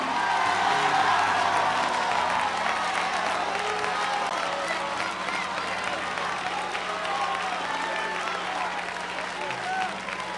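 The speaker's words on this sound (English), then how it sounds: "Give the Lord a clap and a shout." A church congregation applauding and cheering during a sermon, a steady dense wash of clapping and crowd noise sustained throughout at moderate level.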